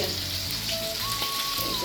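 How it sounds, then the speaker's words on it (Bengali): Rohu fish pieces fry in a pan, making a loud, continuous close-up sizzle and crackle with a faint steady tone underneath and no speech. "মাছ এমন ফুটে আসতেছে"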